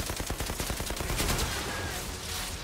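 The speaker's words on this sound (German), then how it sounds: "Viele Schüsse gehen daneben." Rapid gunfire from the video game Outriders, a dense run of repeated shots over about two and a half seconds, loud and sustained with no talk over it.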